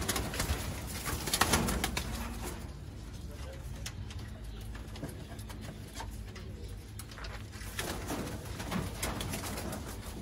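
A Sialkoti pigeon coos softly and repeatedly against a rustling background, with brief muffled taps and light movement noises.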